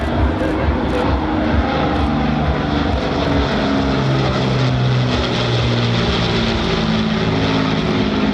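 Avro Lancaster PA474 bomber, built in 1945, flying past at an airshow, its piston propeller engines producing a loud, steady droning roar with a layered low throb that holds throughout.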